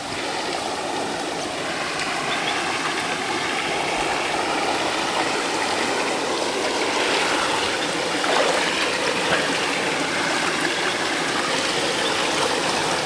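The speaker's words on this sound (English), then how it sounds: "this end of the river ends in a mini waterfall" Steady rushing water fills the whole stretch, a continuous broad splashing as a river pours over rocks in a small waterfall in East Arnhem Land, with no voices.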